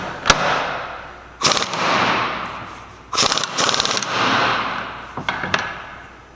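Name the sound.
impact wrench tightening pinion nut on Salisbury differential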